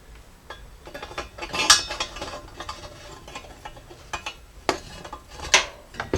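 Metallic clicking and tapping of a ratchet snugging an O2 sensor into the exhaust front pipe of a Jeep Cherokee XJ, irregular clicks with a few sharper bursts, close and moderately loud.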